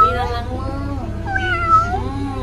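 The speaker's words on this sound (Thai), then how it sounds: "ก็จะเจอน้องแมวนะ" Several meows from a cat at Danny Home Studio, a home recording studio, rising and falling, close and clear over a steady low hum.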